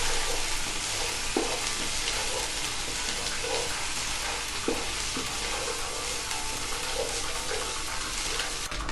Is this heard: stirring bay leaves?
yes